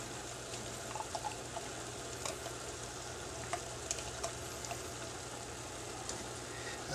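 Eight ounces of Grey Poupon mustard cook into a grilling sauce in a pan, a steady soft sizzle and bubble with light scraping and tapping of a spatula stirring through it.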